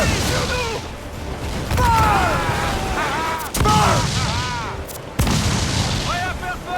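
Heavy ship cannons boom in a naval battle in Assassin's Creed IV Black Flag, several deep blasts landing irregularly amid shouting crew voices and battle noise.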